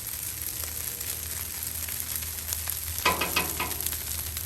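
Fried rice fries with a soft, steady sizzle on a Blackstone griddle, close by, growing briefly louder near the end with a few scraping stirs.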